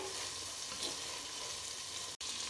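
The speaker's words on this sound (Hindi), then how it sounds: "ये बॉईल किया हुआ राजमा इसको मैंने ऐड कर लिया अब इसको मिक्स करना है" Boiled kidney beans are stirred in a frying pan with spices, giving a steady soft sizzle with faint scraping of the spoon, heard close but quiet, with no talk.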